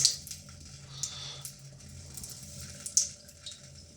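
Water pours out of a funnel sold as one that blocks water but passes petrol and diesel, heard as a faint, close trickle with a few sharp drip-like splashes and no talking.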